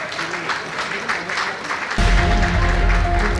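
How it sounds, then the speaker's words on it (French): Applause from a gala evening audience, a dense patter of clapping that swells and turns louder and fuller partway through, with a low rumble of the room underneath. "Est-ce qu'on peut applaudir très fort Monsieur Aruna Nikema"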